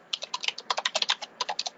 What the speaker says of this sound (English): He's typing about 100 words per minute.